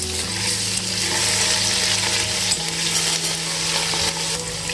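Onions fry in a pan with ginger garlic paste while being stirred, a close, steady sizzle with scraping strokes and a shift in tone midway.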